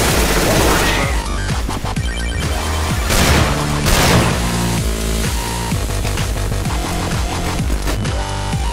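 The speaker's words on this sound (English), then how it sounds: "Throw in the flashbang." A flashbang grenade bursts in the CS:GO video game with a sharp, loud blast midway through, set among busy in-game sounds and ongoing background noise.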